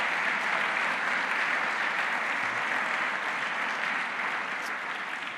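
Church congregation clapping in a steady, continuous wash of applause throughout, moderately loud and even, with no voices standing out.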